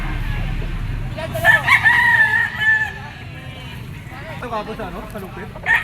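A bull stag rooster crows once in a long, drawn-out call, close and loud, with people talking nearby before and after.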